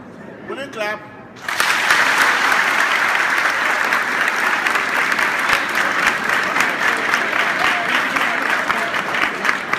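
Loud, sustained applause from a school audience at a senior high school in Ghana's Upper East region, dense and close-sounding. It breaks in after a short moment of talk and continues steadily to the end.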